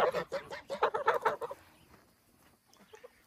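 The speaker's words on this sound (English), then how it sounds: "There's my goose." A goose and Cayuga ducks in a backyard let out a close burst of rapid honking and quacking calls that quickly fades to faint, scattered noises.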